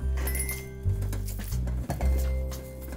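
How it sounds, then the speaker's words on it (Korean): A knife back mashes tofu and mixes it with minced beef on a cutting board in a Korean cooking class, giving soft repeated taps and clinks over a steady background hum. "두부는 이렇게 칼등으로 으깨서 소고기하고 요거하고 고기하고 섞어주세요"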